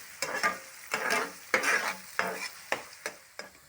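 Chopped green chillies frying in a pan for an aloo soya curry, stirred in about eight quick scraping strokes over a soft sizzle, close and with no talk.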